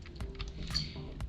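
Keys on a computer's numeric keypad pressed during Blender 3D modelling work: a quiet run of quick, close clicks and taps at an irregular rhythm, with no voices.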